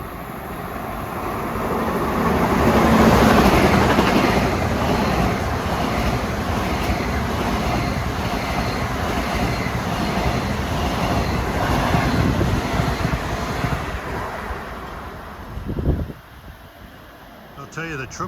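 An LIRR commuter train from Ronkonkoma to Penn Station speeds past at New Hyde Park on a triple-track line, a swelling rush of rolling noise that peaks early and fades, with a voice talking over it.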